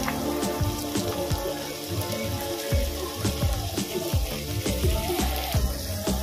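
Chopped capsicum fries for fried rice with busy crackling pops and spatters over a steady sizzle, close and fairly loud, with no talking.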